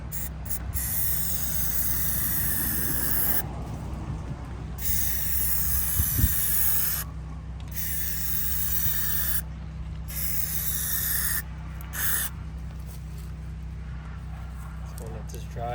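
A PlastiDip aerosol coat goes onto the side emblems of a Ford F150 in steady, close, hissing bursts separated by short gaps, with a voice speaking now and then.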